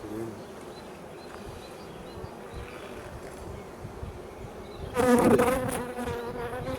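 Honey bees buzz around a hive frame they are cleaning during a hive inspection after a hard winter, a steady close swarm drone that swells louder for a moment near the end.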